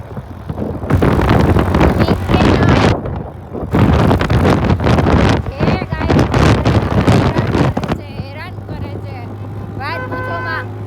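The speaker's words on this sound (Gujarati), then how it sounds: "પવન એવો આવે છે" Strong wind buffeting a microphone during a scooter ride on a sunny day, loud bursts of roaring rumble broken by short lulls, then a quieter stretch with a faint high chirping tone.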